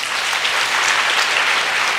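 Audience applause fills a hall at the COSCUP 2015 conference closing ceremony, honoring charity auction participants: a dense, even burst of many hands clapping, loud and sustained for about two seconds.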